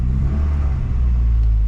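Ford Cosworth engine idling low and uneven with a misfire, a steady loud low-pitched rumble with slight wavering, close by and alone with no talk.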